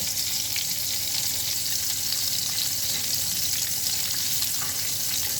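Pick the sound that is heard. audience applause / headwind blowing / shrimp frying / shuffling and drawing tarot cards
shrimp frying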